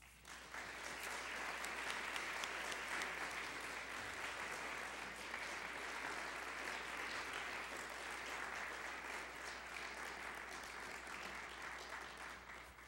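A lecture audience gives Dr. Jim Watts steady, sustained applause as he is welcomed to the stage, a warm, even roar of clapping that holds for many seconds without speech.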